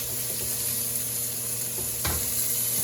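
Food sears in a hot pan on a home kitchen stove, giving a steady, close sizzle with a brief scrape or stir of a utensil midway. No one speaks.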